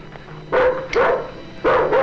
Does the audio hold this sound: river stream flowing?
no